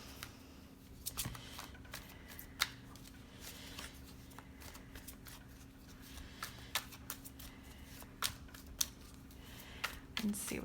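Tarot cards are shuffled faintly and steadily close by, with soft rustling and occasional sharper card snaps over a constant low hum.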